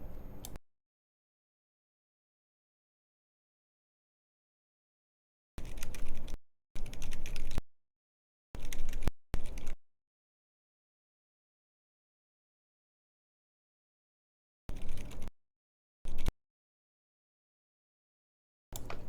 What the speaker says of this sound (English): here goes the typing test